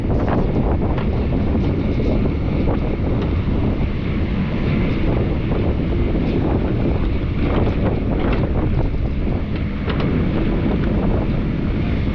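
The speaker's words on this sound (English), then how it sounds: "Man, that wind's cold." Cold wind buffeting a microphone outdoors near water, a loud continuous low rumble and roar that fills the whole stretch without letup.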